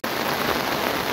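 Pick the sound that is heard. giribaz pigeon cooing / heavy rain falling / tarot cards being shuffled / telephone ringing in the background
heavy rain falling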